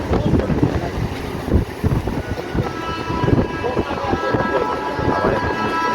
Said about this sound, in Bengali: আবার একটি লোকাল ট্রেন পাস করছে, এটা ব্যান্ডেলগামী ট্রেন